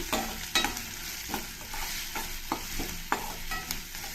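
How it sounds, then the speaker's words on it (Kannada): A spoon scrapes through spices and ginger-garlic paste in a hot frying pan for a soy curry, with quick, irregular strokes over a soft, steady sizzle, close and moderately loud. "ಇದನ್ನೆಲ್ಲ ಒಂದು ಸ್ವಲ್ಪ ಚೆನ್ನಾಗಿ ಮಿಕ್ಸ್ ಮಾಡ್ಕೊಳ್ತೀನಿ"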